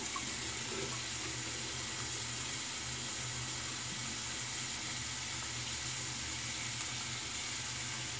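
Running water from a sink tap pours steadily and fairly quietly for several seconds as someone rinses off after a wet shave, with no talking.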